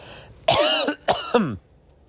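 Two harsh, close coughs in quick succession, each a rough burst with a raspy throat-clearing edge, then quiet.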